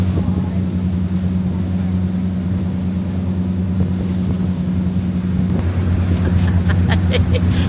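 A boat engine on an island-hopping trip in the Philippines drones steadily and loud, with a low rumbling hum, wind buffeting the microphone, and a few faint higher clicks near the end.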